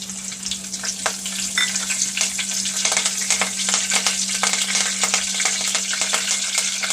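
Curry leaves crackle and sizzle in hot oil with a pinch of asafoetida during tempering for a Malvani black peas curry, a continuous close frying hiss with sharp pops scattered throughout.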